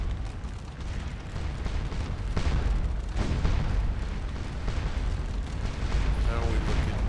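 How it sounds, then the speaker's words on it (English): Continuous rumbling booms of massed artillery fire in the Napoleonic battle game Scourge of War: Waterloo, dense and overlapping, with a voice talking faintly underneath. "Got a lot of artillery up."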